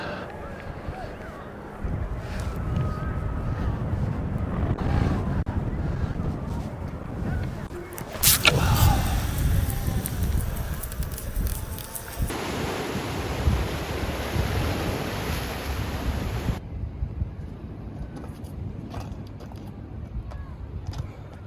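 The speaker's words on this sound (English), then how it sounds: "The wind's still howling quite a lot off the back of us here." Strong westerly wind buffets a rocky shoreline on a spring tide, a steady roar of wind noise with waves washing in beneath it, continuous and fairly loud throughout.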